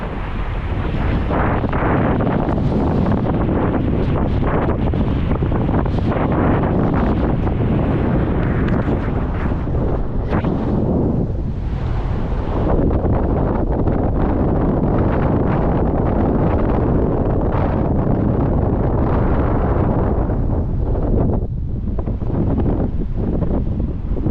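Strong wind roars across the microphone at sea during a boat sea trial on choppy water, a loud, constant buffeting rush with gusty swells and no voices.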